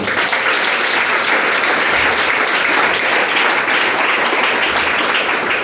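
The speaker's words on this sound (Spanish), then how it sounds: "Fuerte el aplauso a nuestro Señor." A church congregation at an evangelism class applauds in praise of the Lord, a loud, dense wash of many hands clapping continuously and evenly from start to finish, with no voices over it.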